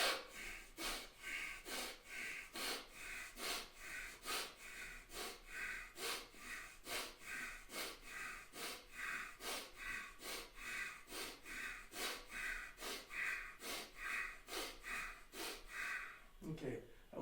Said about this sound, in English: Breathe in, breathe out, and then breathe in, breathe out.